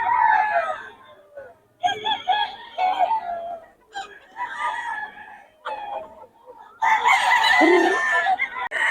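Many chickens and roosters at a poultry market in Bocaue cluck and crow together, dense and loud, with one crow bursting in near the end.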